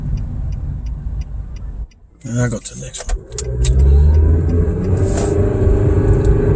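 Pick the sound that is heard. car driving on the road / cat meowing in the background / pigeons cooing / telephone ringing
car driving on the road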